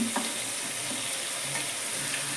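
Spice powders tipped into a pan of frying fish curry, with a steady loud sizzle of hot oil running throughout and a few faint taps and stirring scrapes, no talking.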